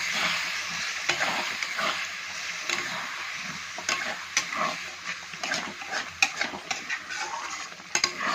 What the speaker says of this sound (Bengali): জল দেওয়ার পর কিন্তু মশলাটা ভালো করে কষিয়ে নেব।